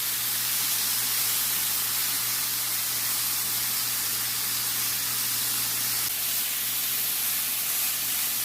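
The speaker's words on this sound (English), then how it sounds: "Put it into our hot skillet. I'm just going to sear the sides of it." Pork tenderloin sears in a hot skillet, giving a steady, dense hiss that holds evenly throughout with no pauses and no talking.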